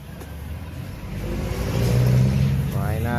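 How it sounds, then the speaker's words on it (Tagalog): A Honda Fazzio 125 scooter engine idles and rises in a rev, a steady mid-pitched motor hum that grows louder, with a person talking over it. "Bubuhayin natin tong motor."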